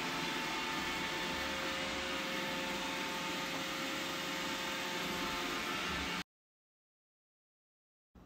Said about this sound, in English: you could just press the clean button and it turns on and it just starts cleaning